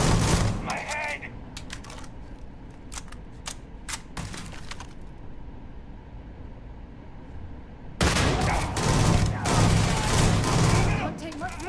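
Rapid bursts of gunfire in the space game Starfield, sharp broadband cracks in quick clusters early on, then a denser, louder volley near the end, with a voice speaking over parts of it.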